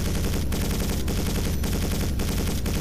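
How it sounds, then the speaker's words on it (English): Continuous machine gun fire in the video game Quake 4, a loud, dense stream of rapid shots with only brief gaps, heard alone without talk. "you actually have to use the machine gun"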